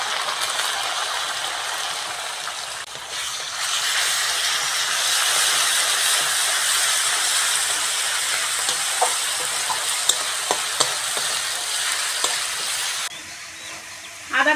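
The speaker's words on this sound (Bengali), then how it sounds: "পেঁয়াজ ভালো করে ভেজে নিয়েছি, এবার আদা রসুন বাটাটা দিয়ে দেবো" Ginger garlic paste and onions fry in a pan with a continuous close sizzle, while a utensil scrapes and clicks against the pan in short bursts toward the end; no talking.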